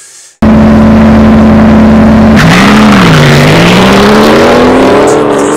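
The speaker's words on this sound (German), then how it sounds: "welches die originalen Motor- und Auspuffgeräusche, also den Krach eines Ford Mustang Shelby" A loud, simulated Ford Mustang Shelby GT500 V8 engine and exhaust sound from an Aviar R67 electric car starts abruptly and idles with a deep drone, then revs up, wavers, and climbs steadily, with rough exhaust-like noise.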